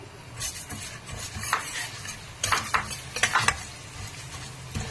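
Cumin, coriander and fenugreek seeds crackle in hot oil for a Nellore-style dal dish, a steady sizzle with bursts of popping and scraping of a spoon in the pan, no talking.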